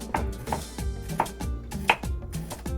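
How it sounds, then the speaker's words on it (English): A knife chops onion on a cutting board in a quick, steady rhythm of close, solid thuds with slight clinks, and nobody speaks. "we're gonna fast forward this chopping process"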